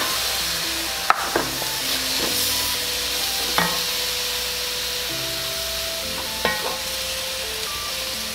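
Garlic fries and is stirred in a hot pan for chicken breast fajitas, a steady loud sizzle broken by a few sharp utensil knocks and scrapes, with no one speaking.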